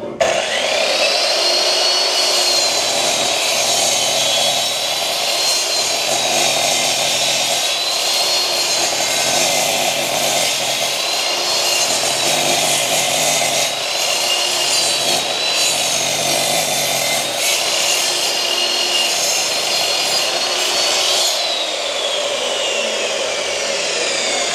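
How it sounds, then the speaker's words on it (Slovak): An INGCO 1800W 220V industrial miter saw, tilted to a 45-degree bevel, cuts through a thick 6 cm wooden beam with a loud, steady motor whine and blade roar that holds for about twenty seconds without a break. "Uhol náklonu si nastavíme na 45 stupňový uhol a môžeme píliť."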